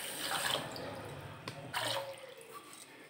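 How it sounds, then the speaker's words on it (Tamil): Water splashes and pours into a pot of sugar in short bursts, close by, with a faint voice underneath, while making rava gulab jamun syrup. "2¼ கப் தண்ணி ஊத்திக்கலாம்"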